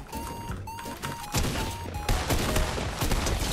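Tactical shotgun blasts from the video game Fortnite, several loud, sharp booms spaced about a second apart over a busy background of game sounds and music.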